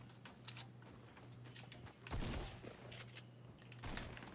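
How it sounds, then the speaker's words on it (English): Bursts of gunfire in the Fortnite Battle Royale video game crack out at a moderate distance, a sharper burst in the middle and another near the end, over a low steady hum. "You're getting shot at?"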